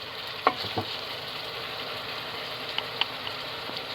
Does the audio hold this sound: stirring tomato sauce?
yes